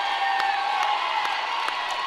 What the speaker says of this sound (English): All the teams cheering,